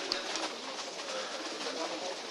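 Soft pigeon cooing rises and falls through a steady wash of bird chatter, with faint voices murmuring in the background.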